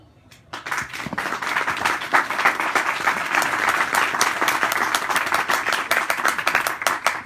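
A crowd breaks into sustained, enthusiastic applause that swells quickly and continues steadily, many hands clapping at once in a fairly close room.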